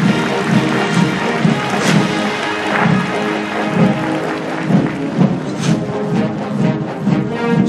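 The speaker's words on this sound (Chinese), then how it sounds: "请再次给予他们热烈的掌声。" Audience applause after a military rifle drill team's display at a National Day ceremony, a loud crowd clapping that stays dense and steady, with rhythmic low thumps running underneath.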